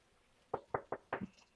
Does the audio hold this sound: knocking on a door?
yes